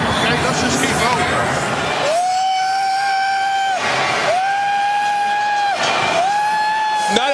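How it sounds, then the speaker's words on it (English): Eagles fans roaring in a packed football stadium during the 2004 NFC Championship against the Falcons, a loud sustained crowd din under a commentator's voice, with a rising whistle-like tone repeating. "He's inciting the crowd. This place is going crazy."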